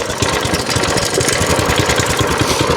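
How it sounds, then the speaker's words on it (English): A Coleman B200 minibike's 4-cycle engine runs after a pull start, a loud close steady idle with a rapid even chugging pulse. "this is a 4-cycle engine, pretty smooth, much more quiet than a 2-cycle"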